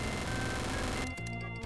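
Rapid gunfire in the game Trouble in Terrorist Town, a dense continuous burst of shots that cuts off abruptly and is followed by a few separate hits, with no talking.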